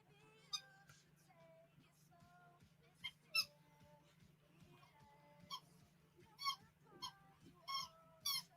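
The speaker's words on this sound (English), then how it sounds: "that squeaking noise" Repeated high, squeaky, honk-like bursts come in uneven clusters over a steady low hum, moderately loud and close, with no talking.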